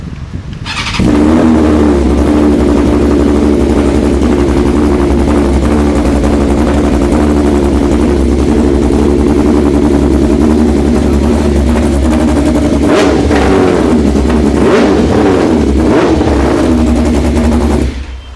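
Modified Yamaha Aerox scooter engine starting up with a sudden loud burst, then a steady, rough, throbbing idle close by, with a few sharper revs and pops near the end before it cuts off.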